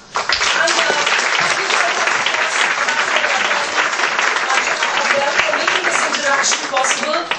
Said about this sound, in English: Ms. Kali, give her a round of applause.